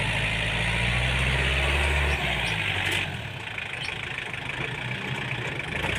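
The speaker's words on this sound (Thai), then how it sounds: "รถไถเจองานหนักแล้วครับ ดินเปียกๆอย่างนี้ครับ" A heavy tractor engine rumbles loudly and laboriously, straining through wet clay, then its low roar eases off partway through and continues at a lower, rougher level.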